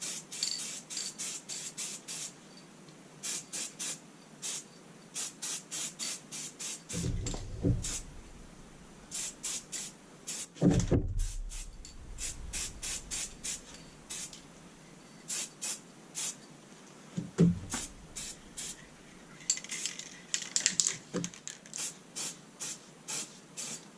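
An aerosol can spraying paint onto the brake calipers of a Lotus Evora in many short hissing bursts, with a few clunks and handling noises between passes.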